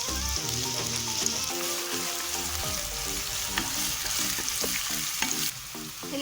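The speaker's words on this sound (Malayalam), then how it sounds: "ഒരു 3 ടേബിൾ സ്പൂൺ ഓയിൽ ഒഴിച്ചു കൊടുക്കാം. ഇതിലേക്ക് 2 മീഡിയം സൈസ് സവാള കട്ട് ചെയ്തിട്ട് കൊടുക്കണ്ടേ." Sliced medium onions fry in about three tablespoons of oil, giving a loud, steady sizzle that runs throughout, with occasional stirring scrapes on top and no talking.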